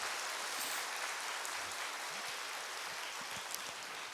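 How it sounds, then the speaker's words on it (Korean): A church congregation applauds the worship team during a spring revival service, a steady broadband wash of clapping filling the hall at moderate loudness, with no talk over it. "우리 예배팀을 위해서 박수 한번 하겠어요."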